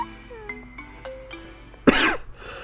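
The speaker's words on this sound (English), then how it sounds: "where did that coughing come from?" A single close, harsh cough in the Detective Pikachu Returns game, bursting out after quiet, tonal game music.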